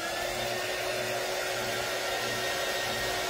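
A hair dryer blowing on a wax honeycomb model, a loud, steady close-up roar of rushing air with a low motor rumble, continuous throughout with no talking.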